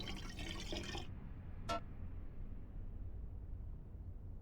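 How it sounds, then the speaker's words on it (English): Tap water runs into a kettle in the Black Mirror II video game, a close, steady splashing stream that stops abruptly after about a second, followed by a single short clink and quiet room tone. "Fill it up with water."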